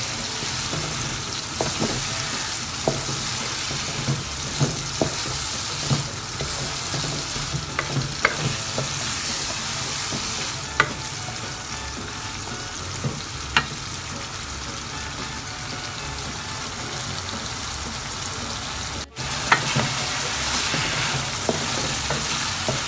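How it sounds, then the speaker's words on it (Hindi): Chickpeas frying and being stirred in a pan while preparing chickpea and potato rice, a steady close sizzle with scattered scraping stirs and utensil clicks, no talking. "थोड़े सी चने ये डालें, अब इसको भूनना है, इसको तकरीबन 2 मिनट ही भूनना है"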